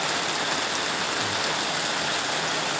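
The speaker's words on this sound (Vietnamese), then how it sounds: "mưa liên tục." A steady downpour of heavy rain in a highland countryside setting, a thick, unbroken hiss and patter of water on surfaces, close and constant with nobody speaking.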